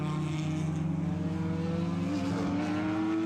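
A race car engine drones on track during an 8-hour endurance race at Barber Motorsports Park, a sustained steady tone that rises slightly in pitch, heard from a distance with no talk.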